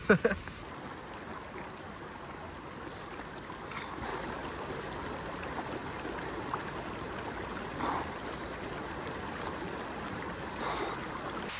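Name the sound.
waterfall in the Cirque de Gavarnie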